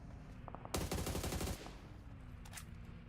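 Sustained automatic gunfire spray in the mobile battle royale game PUBG Mobile during a PMPL Arabia esports match, a loud dense burst lasting under a second with rapid shots, trailing off into quieter game ambience.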